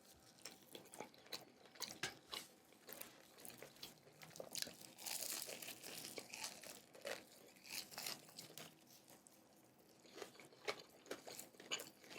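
Crunchy, crinkly tearing of Hattie B's Nashville hot chicken wing with crispy fried breading, close up, in irregular bursts of crackling and rustling with no talk.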